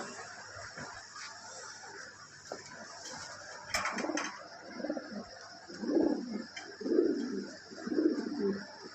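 Toy Lahori pigeons coo nearby in a loft, several soft rounded calls repeating in a steady rhythm over a faint hissing background.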